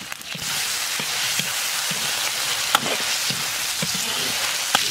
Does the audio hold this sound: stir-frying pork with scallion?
yes